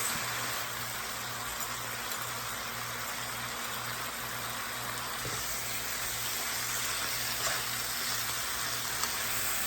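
Cabbage frying in a pan with bacon and sausage stirred in, a loud, steady sizzle close by with a constant low hum underneath and no talking.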